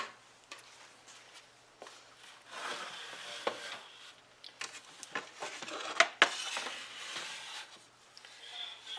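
Snack mix is shifted from a hot baking tray onto another tray and a pan is moved, giving soft rubbing and scraping with a few sharp metallic clatters near the middle.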